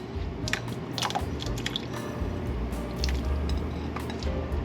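Canned beans slide into the liquid in a crock pot of chicken chili with soft, wet squishes and small drips and plops, quiet and close, with no voices.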